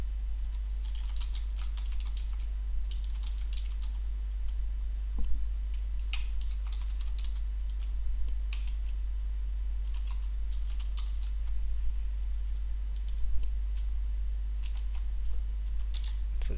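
Java code being typed on a computer keyboard, steady rapid key clicks with occasional louder taps over a low constant hum, continuing for a long stretch with no talking.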